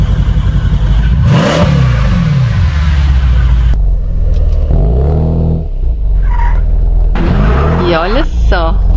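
A car engine in the Second Life video game revs hard while drifting, the pitch sweeping up and down in repeated surges with brief drops between them, loud and close, with a thin squealing tone near the end.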